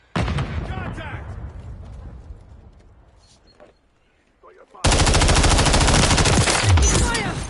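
Call of Duty combat: a loud burst of automatic gunfire trails off into near silence with a few scattered shots, then sustained, dense machine-gun fire erupts and keeps going close by.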